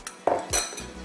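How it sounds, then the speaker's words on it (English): Dry oats tipped into a bowl in a kitchen, a short soft rustling pour with a couple of light clinks of a utensil against the dish, close and fairly quiet. "I'll start the recipe by adding the oats"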